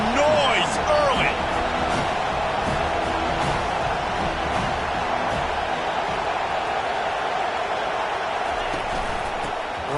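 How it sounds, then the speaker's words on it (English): Stadium crowd roar from the College Football 25 video game, a steady, dense wash of noise filling the whole stretch under a commentator's play-by-play. "This crowd bringing the energy and noise early."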